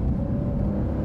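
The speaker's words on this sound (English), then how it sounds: "you hear so much of what's going on with the engine" A Porsche 992 GTS with the Lightweight Pack is underway, its engine giving a brief, loud, low droning rumble heard from inside the car with no talk.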